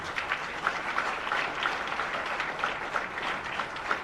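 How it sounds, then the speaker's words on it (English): An audience at an evening function at a Governor's residence applauds the performers, a steady wash of many hands clapping together at an even level throughout. "I think we can have a big round of applause."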